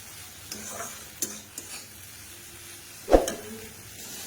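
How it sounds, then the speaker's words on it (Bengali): Maggi noodles fry in a pan, a soft low sizzle broken by a few light stirring scrapes and one louder clack of the utensil near the end. "ম্যাগি ভাজা করছে"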